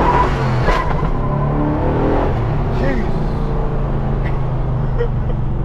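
A 1970 Dodge Super Bee with a V-code 440 Six-Pack V8 drives along, a steady loud engine drone running throughout with a shift change partway, while someone talks over it.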